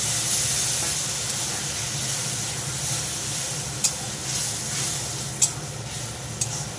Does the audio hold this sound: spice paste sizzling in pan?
yes